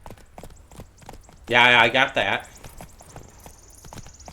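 A horse's hooves clip-clop at a steady walking rhythm in The Witcher 3 video game, quiet and continuous beneath a voice speaking over the gameplay.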